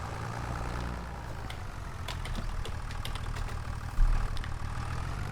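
Tractor engine in a farming video game idles and drones steadily at moderate loudness, with a brief louder clunk near the end.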